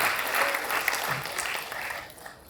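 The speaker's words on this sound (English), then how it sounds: "Let's give them a very big round of applause for that spectacular show that they have put up" Audience applause at a Rotary multi-district conclave, sustained dense clapping from a crowd, fairly loud and steady before tapering off toward the end.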